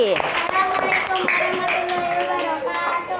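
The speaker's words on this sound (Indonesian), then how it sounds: "Tepuk tangan buat" A classroom group of students claps for a fellow student group, with quick, close hand claps over a short burst while a teacher talks.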